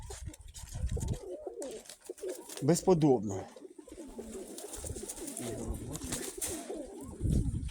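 Krymaky pigeons coo in low, rolling bursts close by, repeating throughout, while someone talks over and between the calls.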